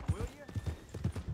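Horse hooves clip-clop in a steady walking rhythm on the way to the stables in Red Dead Redemption 2, close by and paced evenly, while someone talks over them.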